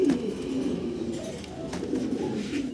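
A young pair of fancy pigeons coo continuously up close, their low rolling calls layered and unbroken over a soft background murmur.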